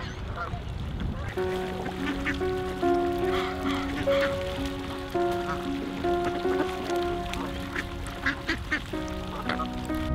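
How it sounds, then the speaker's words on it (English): Several Canada geese honk repeatedly in overlapping calls, fairly close, with a steady outdoor background hum beneath them. "Canadian geese are the most vicious animal known to human existence."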